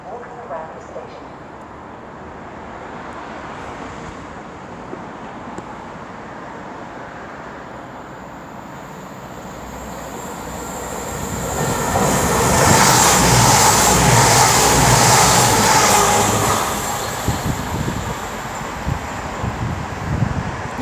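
A diesel train, class 353 unit 353.76, passes through Sandwell & Dudley station on the West Coast Main Line, a rising rush of rolling noise and wind that peaks loudly midway, following quieter platform ambience.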